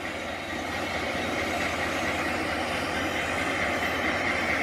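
A Rail Runner commuter train idles at the Santa Fe depot in Albuquerque, a steady mechanical engine drone and hiss holding constant throughout, moderately loud.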